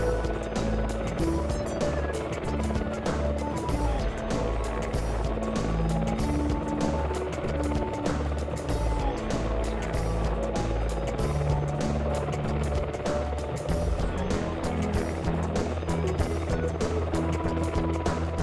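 Merlin military helicopter flying at an air display, a steady loud rotor thump and turbine roar throughout, heard from a distance outdoors.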